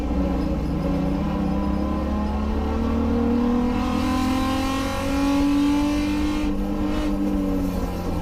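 BMW E30 race car racing wheel to wheel on a track, its engine droning loud and steady with rising and falling pitch as it revs, another car close alongside, no voices.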